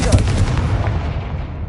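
A Confringo fire spell bursts in Hogwarts Legacy, a loud booming blast with a rumbling tail that fades over about a second and a half.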